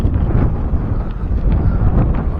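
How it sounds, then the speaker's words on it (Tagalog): Strong wind buffeting the microphone, a loud continuous low rumble with gusty swells and no voices. "sobrang hangin dito"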